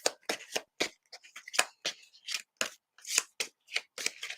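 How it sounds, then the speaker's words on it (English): Crisp, irregular bursts of tarot cards riffling and slapping together, close and fairly loud, in quick uneven rhythm with no voices. "My hands are small, so I don't shuffle cards like a lot of people do."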